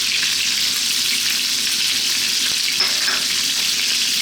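Big slices of galangal and ginger hit a hot pan for a Thai chicken stew, giving a loud, steady, close sizzle that runs unbroken with no voices.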